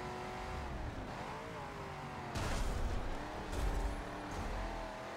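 A V8 race car roars through Prague in Forza Motorsport 7, its engine note rising and falling steadily as it accelerates, with louder surges near the end and no talking.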